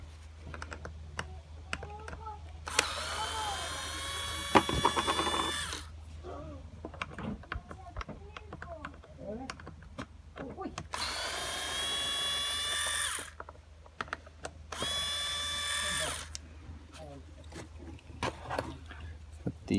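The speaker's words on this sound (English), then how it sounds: "And then again, screw these screws back in." Power screwdriver driving screws back into a Stokke Trailz stroller front wheel, three whirring bursts of a few seconds each with clicks and handling noises between them, close and fairly quiet.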